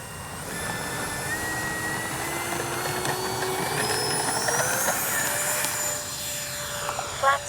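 A Freewing twin 70mm AL-37 RC jet's electric ducted fans whine steadily and rise in pitch as it takes off at an evening airfield, loud and close, with no talking.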